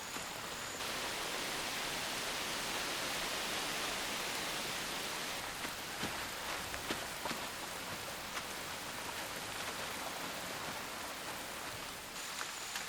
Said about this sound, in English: The rains continue for weeks.